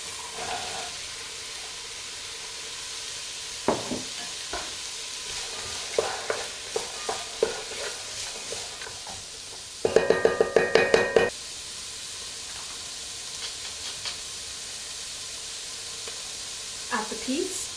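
Onions and carrots stir-fry in a pan with a steady sizzle, broken by scattered knocks and scrapes of a utensil and a burst of rapid stirring clatter midway.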